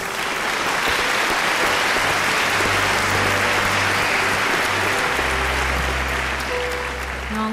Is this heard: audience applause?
yes